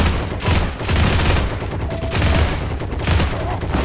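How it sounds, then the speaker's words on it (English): Continuous automatic gunfire from an M1/M2 in Heroes & Generals, dense overlapping shots rolling in loud waves with no pause. "This gun's so inaccurate when you have it on automatic."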